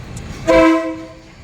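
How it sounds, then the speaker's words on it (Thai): A train horn sounds close and loud in a single sustained blast at a Thai railway market, rising suddenly after a quiet start and trailing off over about a second. "อ่ารถไฟมาแล้ว"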